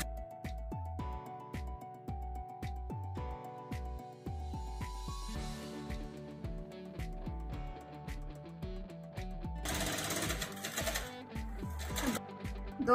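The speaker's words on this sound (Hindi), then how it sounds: "मशीन की हम फुल चाल रखेंगे" Sewing machine running at full speed to stitch gathers into fabric for a baby frock, a steady rapid mechanical whir with short pauses and speed changes, alone and close.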